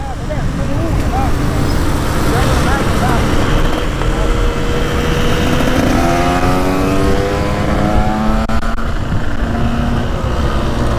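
A Husqvarna or KTM motorcycle revs hard outdoors for a wheelie, engine roaring steadily with rising and falling pitch, loud and continuous amid wind and background noise.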